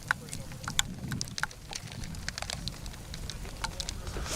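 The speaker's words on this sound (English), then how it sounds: "But the rain is now starting to come down." Rain starting to fall at an outdoor high school girls' tennis match, a steady patter of drops on the courts with scattered sharper ticks, fairly close and continuous, with people talking faintly underneath.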